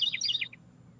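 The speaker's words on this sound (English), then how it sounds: "As we listen to Mr. Bird." Songbirds chirp outdoors in a quick burst of several bright, high tweets, fairly close, then fade out, leaving a low steady background hum.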